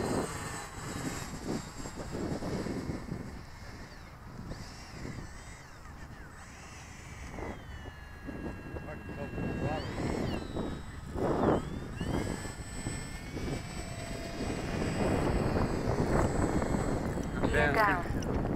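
A radio-controlled MiG-21 model jet circles at a fun fly as it sets up for landing, its turbine a thin, rising and falling whine over gusty wind noise, with people talking nearby.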